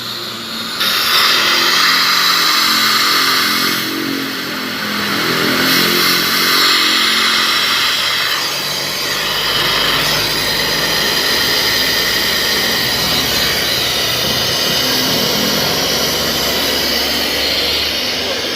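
A loud, steady mechanical roar and hiss of a pump sucking air out of a car radiator, running continuously up close, droning without pause.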